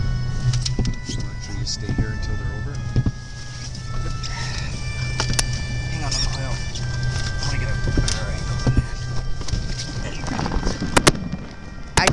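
Fireworks give sharp, scattered cracks and pops at varying distances, with a cluster of louder bangs near the end. Background music plays throughout the display.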